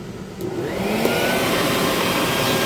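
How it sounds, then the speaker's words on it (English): A Bucket Head wet/dry vacuum with a cyclone filter on a 5-gallon bucket runs steadily, a loud continuous whooshing drone that swells slightly in the first half second and then holds even throughout. "This one's called a bucket head wet dry vac"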